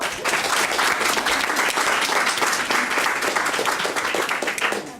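Audience applause at a public event launching a children's health program, a dense, steady burst of many hands clapping that stays loud for several seconds before easing slightly.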